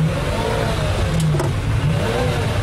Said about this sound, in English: to listen to that V12 in the back is very special